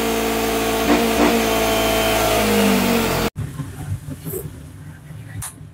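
A tuned Yamaha XMax scooter with a 372cc engine revs loud and close with rising pitch sweeps for about three seconds, then cuts to quieter background noise.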